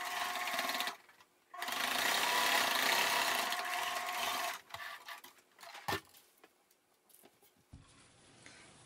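A sewing machine runs steadily while stitching a straight seam on a multipurpose car bag, a loud continuous whir that stops, then gives way to shorter bursts and fabric handling.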